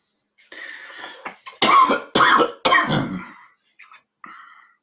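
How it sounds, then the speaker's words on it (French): One person coughs in a fit of several harsh, loud, close coughs in quick succession, ending with a throat clear and a couple of smaller coughs after a short pause. "Pour pas changer, je tousse."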